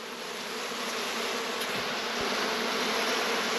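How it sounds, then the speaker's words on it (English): Honey bees buzz around their hives in a continuous, dense, close drone, with a few individual bees passing nearer, and no talk. "Bees all working"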